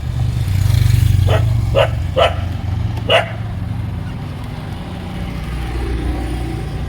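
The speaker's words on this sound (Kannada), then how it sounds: "ಈ ನಾಯಿ ನಿಲ್ಲಿಸಿದ್ರೆ ಮಾತ್ರ ಬೊಗಳಲ್ಲ ಸ್ವಲ್ಪ ಮುಂದೆ ಹೋದ್ರೆ ಸಾಕು ಬೊಗಳುತ್ತಾನೆ" A dog barks a few sharp times off to one side, the barks short and spaced, over a steady low rumble of passing traffic and engine noise on a street at night.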